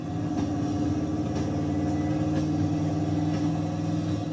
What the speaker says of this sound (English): I'll be driving by engine noise from now on